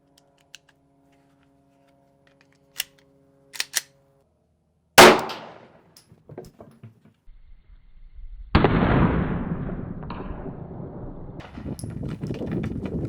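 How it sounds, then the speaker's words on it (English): A Glock 19 pistol fires a 9mm round at a bulletproof face mask: a sharp, loud single report after a few quiet clicks, then clattering impacts and a rising broad rush of noise, with no talk. "So we are moving up to a Glock 19 and shooting a 9mm."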